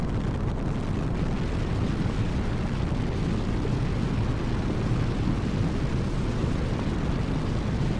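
Honda NX500 adventure motorcycle cruising on a highway at about 56 mph and 4,300–4,500 rpm, a steady, dense roar of engine and heavy wind buffeting from a small windshield, constant and loud throughout.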